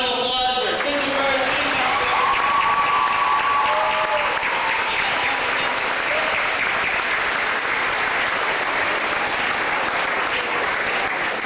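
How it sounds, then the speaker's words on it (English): An audience at a school gathering in Richmond Hill, Ontario claps for Kristopher, dense continuous applause holding at a steady loud level throughout, with a few voices heard at the start. "So please, another round of applause for Kristopher"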